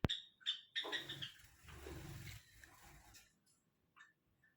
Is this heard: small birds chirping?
yes